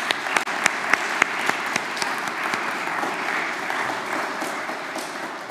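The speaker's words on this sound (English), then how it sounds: "praying for all of us with a big round of applause" A church congregation applauds the priest after Holy Mass, with a sustained, even round of clapping from a large crowd and a few sharper individual claps near the start, fading slightly at the end.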